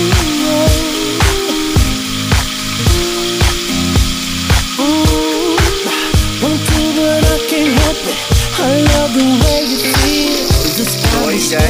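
Fish, galunggong, fries in a pan as part of a ginisang galunggong dish, a loud steady sizzle with rhythmic scraping and stirring knocks close by, no talk.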